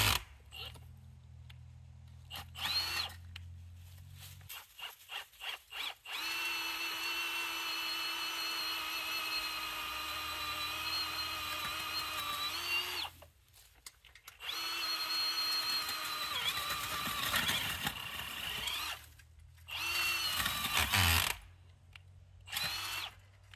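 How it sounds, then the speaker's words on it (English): A cordless power hole auger drills in repeated bursts, whirring loudly with a grinding, clicking mechanical clutch slipping in between, separated by short pauses of near silence. "You do hear that mechanical clutch kick in every now and then."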